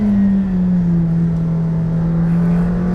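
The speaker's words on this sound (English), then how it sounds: "I'm sure you can hear as well as just how razor sharp the gearbox is." A McLaren Senna's engine pulls hard in a loud, steady, close drone lasting a few seconds, with only slight shifts in pitch and no distinct gear-change breaks standing out.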